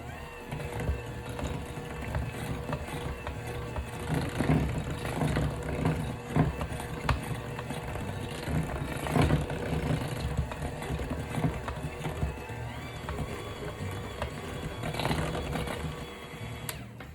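Electric mixer beating eggs and vanilla into peanut butter cup cookie dough, a steady whirring drone with rhythmic thumps and scraping against the bowl, running continuously for the whole stretch.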